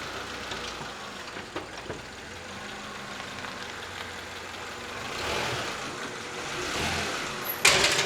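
A 1991 Honda Accord with a failing lower radiator hose rolls into a garage, its engine a low, faint idle-like hum with a few soft knocks and a brief sharper clatter near the end.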